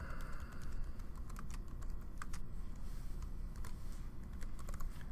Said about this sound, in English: So I can type out